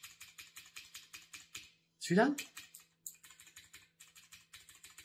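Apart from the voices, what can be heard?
typing on mechanical keyboard with blue switches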